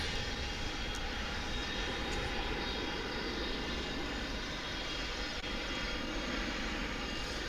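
An American Airlines jet departing DFW International Airport for Denver roars with a steady, broad engine rumble that fills the air, loud and continuous, with no voices over it.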